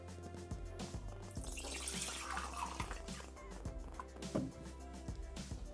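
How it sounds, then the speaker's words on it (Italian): Water poured into a Thermomix (Bimby) jug while making a meat pizza, a steady close splashing rush that swells and fades over a few seconds amid kitchen clatter. "Mettiamo nel boccale l'acqua."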